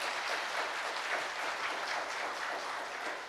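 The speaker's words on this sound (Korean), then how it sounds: "그냥 이렇게 박수 한번 부탁드립니다" Applause from an audience after a lecture, a brief even wash of many hands clapping at moderate volume with no voices over it.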